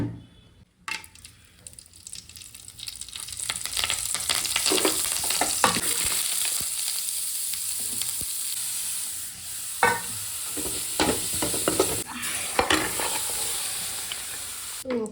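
Leafy greens palya stir-fries in hot oil in a pan, a continuous close sizzle broken by scraping stirs and occasional louder clatters of the spoon, with no talking.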